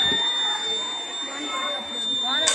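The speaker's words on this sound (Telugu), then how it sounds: "నీళ్లు పడితే సౌండ్ బజర్ అవుతుంది" A buzzer on a school science-day rain detector project gives a steady electronic tone that runs under people talking nearby.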